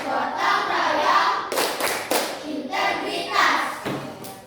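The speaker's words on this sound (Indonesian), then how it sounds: "Coba kita tepuk PPK dulu" A grade six class claps through the Tepuk PPK chant, with sharp groups of loud hand claps between stretches of children chanting together, close by.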